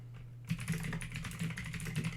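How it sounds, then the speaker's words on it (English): Someone types on a computer keyboard nearby. The key clicks start abruptly after a quiet moment and continue in a quick, uneven patter, with a low steady hum underneath. "I'm typing. While we wait for this to load,"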